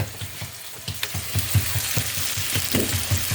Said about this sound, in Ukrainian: Смажимо ми наші котлети.